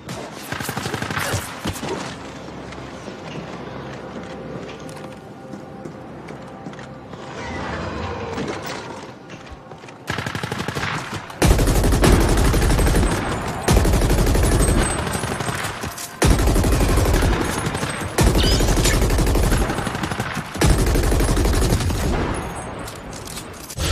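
Automated defense turret in a video game opening fire in loud, sustained bursts of rapid gunfire, a few seconds each with short gaps between, after a quieter stretch of mechanical ambience.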